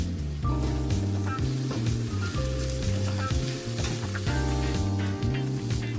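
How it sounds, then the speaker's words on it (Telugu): Green chilies, curry leaves, mint and coriander frying in oil for chicken biryani, a continuous bright sizzle and crackle under rhythmic background music. "బాగా ఫ్రై చేసుకుందాం."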